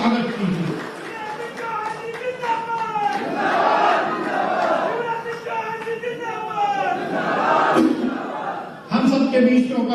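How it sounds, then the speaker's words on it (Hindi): Large crowd at a public ceremony welcoming a chief minister in Bhopal, cheering and shouting together in a loud, sustained roar of voices with some clapping, swelling and easing over several seconds. "आदरणीय शिवराज सिंह चौहान जी, ऐसे नहीं दोनों हाथ उठाकर जोरदार ताली बजाकर माननीय मुख्यमंत्री जी का अभिनंदन कीजिए"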